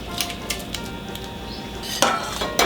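A whisk stirs grated cheese into beer in a pan, giving a quiet bubbling background broken by a few light metallic clinks and a louder clatter near the end.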